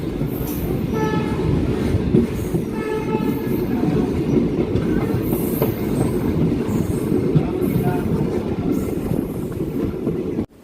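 The Tinsukia-Lumding passenger train on Assam's railway rumbles loud and close, with a continuous heavy roar of wheels on rails, rhythmic clatter and faint tonal squeals as it runs steadily.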